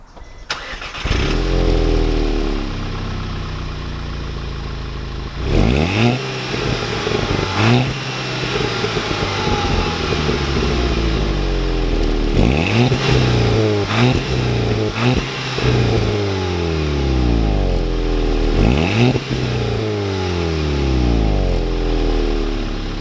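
A Volkswagen Golf GTI with very low mileage drives along, its engine rising and falling through repeated revving accelerations and gear changes, loud and close throughout with no talking.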